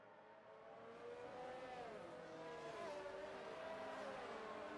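An F1 2019 race car spins at a corner under safety car conditions, engine whining and sweeping in pitch alongside tire squeal, fading in then sustained at a moderate distance.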